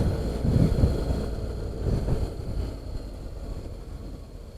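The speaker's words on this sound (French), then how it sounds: "Là, le vent est vraiment dans le haut du casque." Wind buffeting a motorcycle helmet on a 2017 Honda X-ADV at speed, a constant low rumbling roar with gusty surges, no voices.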